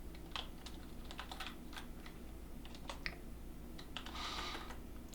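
Fast, steady typing on a computer keyboard while writing C++ code, quiet close-up clicks in an irregular rhythm, with no voice.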